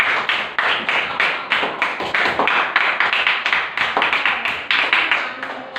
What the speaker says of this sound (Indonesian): Tepuk tangan buat Ananda Soleh